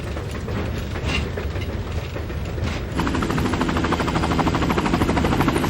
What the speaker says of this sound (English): This train is a runaway.